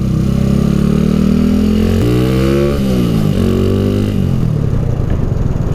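A Honda Wave 125 motorcycle with upgraded valve springs being ridden, its engine loud and close, with a steady drone that rises and shifts in pitch through gear changes and throttle.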